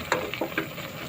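Eggplant adobo frying in a pan, a steady close sizzle with a few soft stirring scrapes and clinks over the bubbling.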